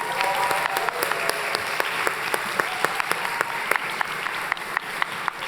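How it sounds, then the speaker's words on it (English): Audience applause for students at a national civics bee, a sustained round of dense clapping from a sizeable indoor crowd at an even level throughout. "Audience, let's give them another round of applause."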